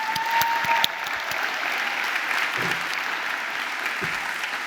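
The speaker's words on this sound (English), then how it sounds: "please, again, join me to applaud" Audience at a London College of Communication graduation ceremony applauding the graduates, a sustained, even roar of clapping with no talk over it.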